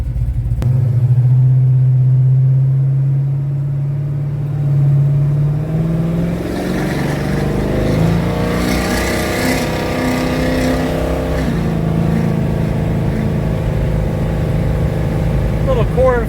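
Pontiac 455 V8 hot rod engine under a quarter-throttle pull, a steady low rumble that builds and rises in pitch while cruising, loud and close, with a voice talking over it near the start.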